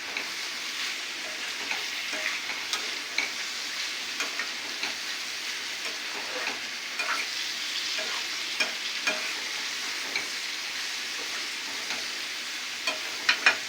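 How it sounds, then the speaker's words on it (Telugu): Food fries in a pan with a steady soft sizzle while a utensil stirs it, giving irregular scraping taps throughout, close and moderately quiet. "ఒకసారి కలుపుకుందాం"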